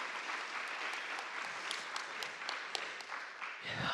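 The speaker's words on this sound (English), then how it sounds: "Can we give her a round of applause?" An audience at a diversity awards evening applauds the night's host. The clapping is soft and distant and fills about four seconds, ending with a brief rumble.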